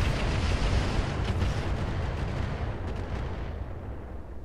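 Heavy mech weapons fire in the Roguetech BattleTech mod, a dense, loud, rumbling barrage of booms and blasts that stays constant over several seconds, with no talk.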